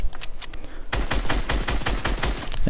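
Rapid automatic gunfire from a Fortnite match opens after a short quieter stretch and then runs as a dense, continuous burst of close, loud shots.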